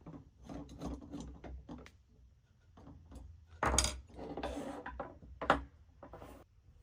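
A 10-32 screw and spacer being fitted into a swerve module main plate, with close, quiet clicks, rubbing and scraping of metal parts in short irregular bursts.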